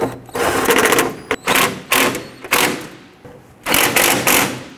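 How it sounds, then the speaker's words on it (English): A power tool tightens fender bolts on a 1997-2006 Jeep Wrangler, running in several loud, close bursts of rapid buzzing with short pauses in between. "Once you have all your bolts in, go ahead and tighten those down."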